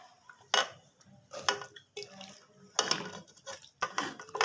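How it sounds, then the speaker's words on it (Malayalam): Washed jackfruit pieces are dropped into a pressure cooker, making a series of irregular clattering thumps and metallic scrapes against the pot, moderately close and with no voice over them. "കഴുകി വൃത്തിയാക്കിയെടുത്ത ചക്ക ഒരു കുക്കറിലേക്ക് ഇട്ട് കൊടുക്കാം."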